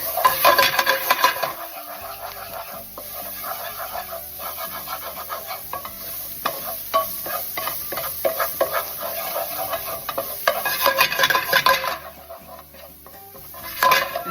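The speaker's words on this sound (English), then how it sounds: "I'm gonna add a little bit of my garlic, my shallots, and my lemon zest. We're gonna mix that in." A utensil scrapes and stirs garlic, shallots and lemon zest through oil and butter in a pan for chicken piccata, with close, repeated scraping and a soft sizzle underneath.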